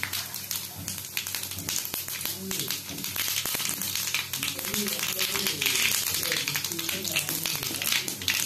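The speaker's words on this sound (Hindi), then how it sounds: "पंच फुटण को फुटाइबा" Panch phoron and dried red chillies crackle and splutter in hot mustard oil in a kadai for a bottle gourd dalma tempering, a continuous dense sizzle with popping under a voice speaking throughout.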